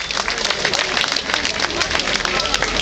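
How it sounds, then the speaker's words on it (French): An outdoor festival crowd applauds a dance company after a traditional and contemporary dance performance, a steady rain of clapping mixed with crowd hubbub. "Vous pouvez les applaudir."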